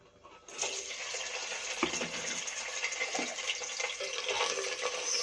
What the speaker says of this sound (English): I take a pan and oil added. Now adding lady finger. First we have to fry this.